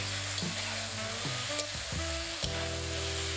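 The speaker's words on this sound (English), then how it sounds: "Briefly stir around." Shredded potatoes sizzle and get tossed in a hot wok with rice vinegar and sugar, a continuous close frying hiss broken by several scraping stirs of the spatula, with no voices.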